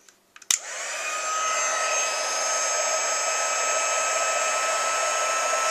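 A few small clicks give way to a heat embossing tool switching on and blowing steadily, a continuous hair-dryer-like rush that melts embossing powder, holding at an even level for several seconds without talk.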